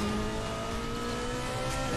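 A car in Need for Speed The Run accelerating and drifting, a steady loud engine roar with tire noise that stays constant across the whole stretch, with no talking.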